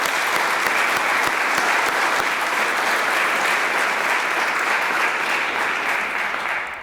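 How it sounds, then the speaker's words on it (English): Steady, dense audience applause for a graduating physician assistant class at a white coat ceremony, loud and sustained throughout before easing slightly at the end, with no talking over it. "let's have a round of applause again for this class"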